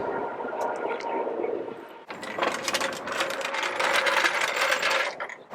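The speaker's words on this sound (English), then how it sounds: "And now would be a great time to install my new lug nuts." Lug nuts going onto a Jeep XJ wheel stud, a busy run of metallic ratcheting and clicking from near the vehicle, steady after a short pause, with no talk over it.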